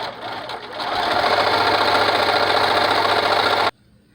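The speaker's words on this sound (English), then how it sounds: "And we'll go ahead and stitch that 1/2 of an inch from our fold." Sewing machine running a straight stitch along a folded half-inch tuck in a fabric face mask, a steady close whirring hum that builds and holds for about three seconds, then cuts off abruptly.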